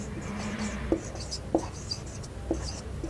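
Pen or pencil writing during a math lesson: soft, close scratching strokes with three small taps as the tip meets the page, quiet throughout.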